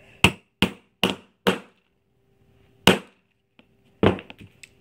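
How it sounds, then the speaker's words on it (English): A hammer whacks a grommet setting tool through fabric: four sharp, evenly spaced strikes, a pause, then one more hard blow and a final cluster of taps, loud and close with no talk. "And then you whack it a few times with the hammer."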